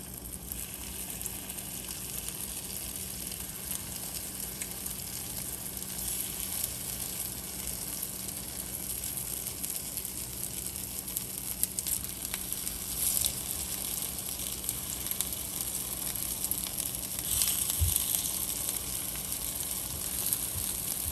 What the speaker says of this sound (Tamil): இப்போ எண்ணெய் சூடாகிட்டுது, நான் மாவை விட போகிறேன்.